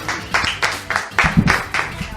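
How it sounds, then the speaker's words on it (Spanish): Audience applause during a live radio interview, heard as a short, close sequence of distinct rhythmic claps, fairly loud and evenly spaced. "Le damos un grande aplauso a todos."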